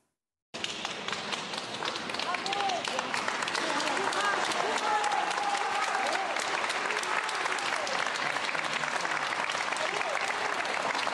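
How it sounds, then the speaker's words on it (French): A crowd outside a court hearing applauds a woman as she leaves, dense sustained clapping close by for about eleven seconds, with voices mixed into the noise. "D'abord les applaudissements, puis on écoute quelques témoignages."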